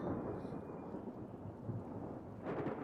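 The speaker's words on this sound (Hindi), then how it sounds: "उसी रात तेज बारिश हुई।" Heavy rain pours steadily while low thunder rumbles underneath, swelling briefly toward the end; quiet and distant overall.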